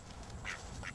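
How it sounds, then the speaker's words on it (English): Two short nasal duck quacks, close and clear, sound in quick succession over a rough outdoor background without speech. "When I say quack, you're gonna quack, right?"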